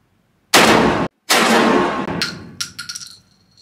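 Two loud, close gunshots ring out at an outdoor shooting range in Phuket, Thailand. Each sharp blast has a long ringing tail, and a few fainter metallic clicks and clatters follow.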